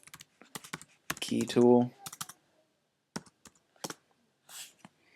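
Keys clatter on a computer keyboard as a command is entered in a terminal, a quick run of clicks between bursts of a man's speech, close and moderately loud.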